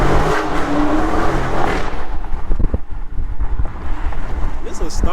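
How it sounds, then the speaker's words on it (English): Stock exhaust of a Dodge SRT driving through downtown Chicago, a loud rumbling engine under strong wind noise that eases into a lower, choppier burble with someone talking over it. "This is a stock exhaust, bro. This sounds so good."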